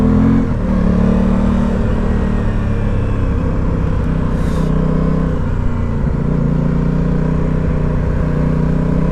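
Aprilia Tuono 660 parallel-twin motorcycle engine while riding, a loud, steady deep drone with low harmonic throb and a slight pitch shift, alone without talk.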